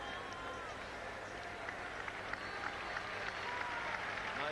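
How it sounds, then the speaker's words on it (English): Crowd applause fills a college basketball arena at a Tennessee versus LSU game, a broad steady wash of clapping and cheering at moderate distance that swells slightly toward the end, with some voices mixed in. "Nice response from the crowd"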